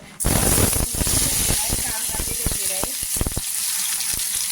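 Chopped onions sizzle and fry in hot oil in a kadai on a gas stove, a loud steady crackling hiss with scattered sharp pops, close up. A voice talks over it.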